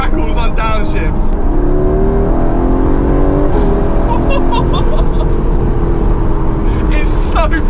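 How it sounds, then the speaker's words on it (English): A 2019 Aston Martin Vantage engine roars loudly as it accelerates and shifts down, with sharp popping crackles from the standard exhaust, and voices shout over the noise. "Standard exhaust system, and we've got crackles on downshifts."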